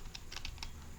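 Short bursts of keystrokes on a computer keyboard as a command is entered, about five quick clicks in an uneven run, quiet and close with no voices.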